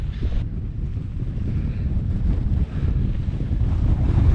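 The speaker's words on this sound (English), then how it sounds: "Now the wind's changed a bit, and it's coming right in on the side of my tent." Strong wind buffeting a tent while wild camping on a hillside, a loud continuous low rumbling roar of gusts on the fabric and microphone, steady and building slightly, with no talking.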